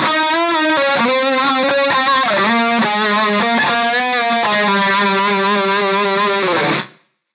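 Electric guitar tone from a Fractal amp modeler with added reverb, a sustained distorted chord riff played continuously and loudly for about seven seconds, then stopping abruptly.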